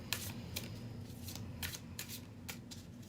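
Tarot cards shuffled on a mat in quick riffling bursts, about seven short crisp rustles spaced through the stretch, close and fairly faint over a low steady hum.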